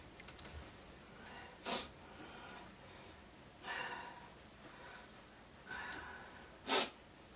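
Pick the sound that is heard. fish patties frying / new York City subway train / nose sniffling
nose sniffling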